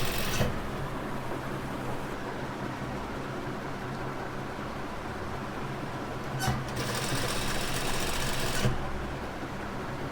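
Sewing machine stitching dori piping onto a dupatta runs steadily and close for about ten seconds, a continuous loud mechanical whir with brief pauses and clicks as the fabric is adjusted.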